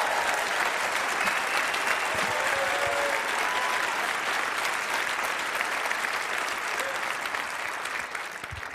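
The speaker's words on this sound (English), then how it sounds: "Give me a round of applause." An audience at a church leadership talk claps in a dense, continuous round of applause that holds steady for several seconds before easing slightly at the end.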